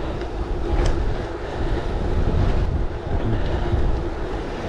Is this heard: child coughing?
no